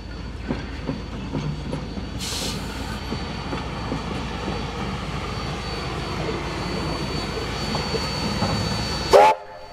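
Steam locomotive 3265 rumbles steadily close by as it pulls into a station, with hissing bursts, ending in a sharp loud whistle blast; no talking.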